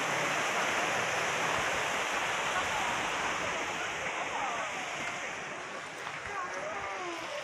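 Water tumbles down a small waterfall in a man-made watercourse in Daegu, South Korea, a steady close rushing hiss that fades slightly toward the end.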